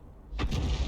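A single 105 leFH18B2 artillery gun fires in a tank video game, one sudden heavy boom after a quiet moment, followed by a rumbling low tail.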